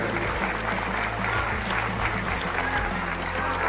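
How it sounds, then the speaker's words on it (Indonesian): Loud, dense applause from members of Indonesia's MPR assembly fills the hall after President Prabowo's speech, a steady roar of clapping with faint voices mixed underneath. "Prabowo gebrak mimbar, disambut riuh tepuk tangan anggota MPR"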